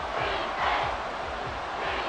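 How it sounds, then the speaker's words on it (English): Stadium crowd in Madden NFL 24 roaring and cheering steadily, a loud continuous wash of game crowd noise swelling slightly, with no talk over it. "This crowd turning up the decibel level."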